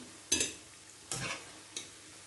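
Plantain fritters fry in hot oil with a low sizzling hiss, broken by three bursts of crackle and scraping as the fritters are moved or lifted out.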